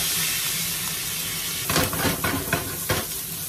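Onions sautéing in rendered chicken-skin fat for a Japanese white chicken curry, a steady close sizzle with a few scraping stirs of the pan toward the end.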